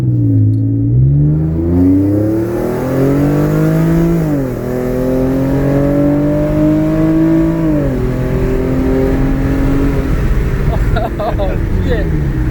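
A Genesis Coupe accelerates hard from inside the cabin, its engine note climbing through gears with clear drops between shifts, loud and continuous throughout.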